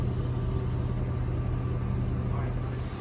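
A car engine idles steadily during a vacuum test, a low continuous rumble close by with a constant hum and no break for about three seconds, after the idle has settled lower.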